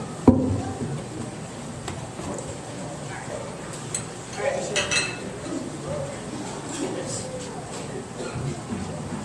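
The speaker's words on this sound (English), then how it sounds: "I'm going to put three bowls on the front." Three bowls set down on a table, a few light clinks and knocks spread over several seconds with a person talking throughout.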